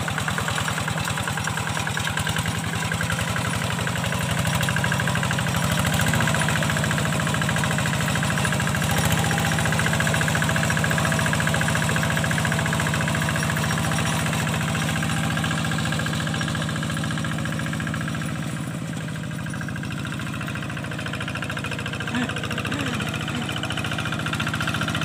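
A Kubota G1000 tractor on double jumbo wheels levels land, its diesel engine running loud and close with a steady knocking chug that carries on throughout.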